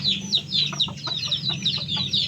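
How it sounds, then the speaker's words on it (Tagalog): Hens cluck nearby in quick, repeated bursts while eating mango, a busy overlapping chatter over a low background hum, in Palauig, Zambales, Philippines. "Ngayon lang ako nakakita ng manok kumakain ng mangga."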